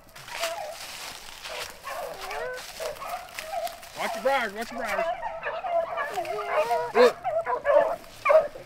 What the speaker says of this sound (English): The dogs are chasing him.